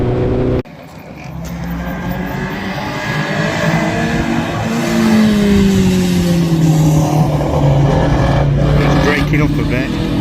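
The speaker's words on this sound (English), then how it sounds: "you can hear the ignition scattering every time the car's vibrating around a lot" A Toyota Starlet KP61 National Hotrod race car engine runs loud and close at Blyton Park, its note sweeping and stuttering unevenly as the ignition misfires when the car vibrates through turns and braking.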